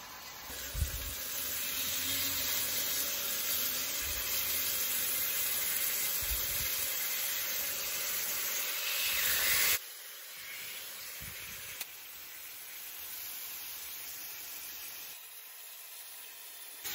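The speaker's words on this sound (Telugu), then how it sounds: "ఇప్పుడు ఈ చేప ముక్కల్ని రేకు మీద వేసుకుంటాం." Fish pieces sizzle in hot oil on a pan for a traditional tamarind fish curry, a steady loud hiss with a few soft clatters, easing slightly partway through.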